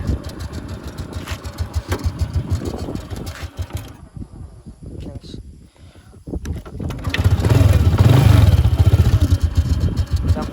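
A Honda Dream 100 motorcycle engine runs with an uneven, throbbing idle while warming up, drops nearly quiet midway, then returns louder and rumbling close by.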